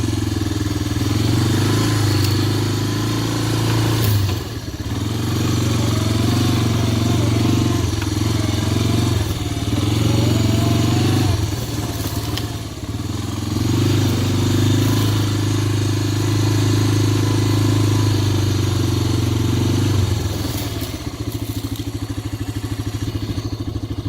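A motorcycle engine drones loudly and steadily while riding on a rural homestead track, with brief dips and surges in pitch around 4, 12 and 20 seconds as gears are shifted by foot.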